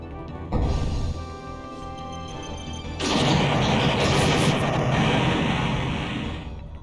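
Heavy booming impacts as a cannon takes hits in the Shining Force 3 video game, one sharp blast near the start followed by a dense, sustained crashing roar that fades out.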